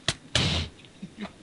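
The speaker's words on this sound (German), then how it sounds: "Jetzt darf ich hier erstmal die Tür abreißen." A wooden door being knocked down in the Minecraft video game, heard as a sharp thump and then a heavier broken crash, with a few faint clicks and soft blocky bumps trailing after.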